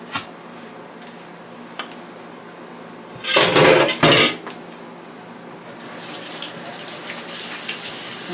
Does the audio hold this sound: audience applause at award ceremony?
no